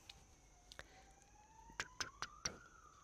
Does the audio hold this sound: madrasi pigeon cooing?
no